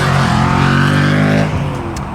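A car fitted with a 3-inch exhaust and Nitto NT05 tyres gives a loud, steady low engine drone with a rumbling exhaust note, near and continuous. It eases off slightly toward the end.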